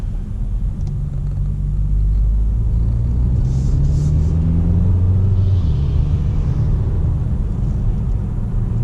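A 2018 Kia Soul Turbo with 201 horsepower accelerates on the road, heard from inside as a loud, steady low engine and road rumble that rises in pitch as it pulls, with no talking.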